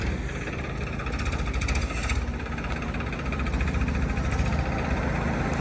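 A tractor engine idles steadily nearby, a constant low rumbling drone with a faint rhythmic knock throughout.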